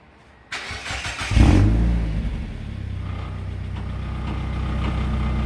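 A car with a cheap performance exhaust fires up with a sharp burst, then settles into a deep, throaty, steady idle rumble, close and loud.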